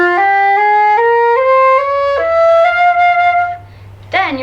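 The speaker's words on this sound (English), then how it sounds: "The line starts off with the F harmonic scale," Solo flute plays an ascending line of sustained notes in the F harmonic scale, each tone clear and close, stepping up steadily before a final long held note; a voice starts speaking at the very end.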